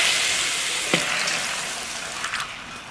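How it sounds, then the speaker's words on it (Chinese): Duck meat sizzles hard in a dry, hot wok, making a steady dense hiss with a few faint clinks and stirring scrapes. No one speaks. "空锅下入鸭肉"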